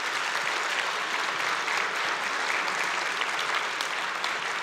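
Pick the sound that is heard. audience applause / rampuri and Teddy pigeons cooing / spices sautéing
audience applause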